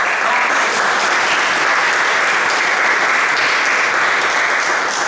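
Loud, dense audience applause fills a public political event, a steady wash of many hands clapping without pause, with no voices rising above it.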